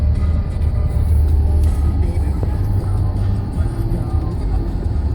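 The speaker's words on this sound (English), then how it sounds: "we're driving a car right now" Steady low engine rumble and road drone of a car heard from inside the cabin, continuous and fairly loud throughout, with no talk over it.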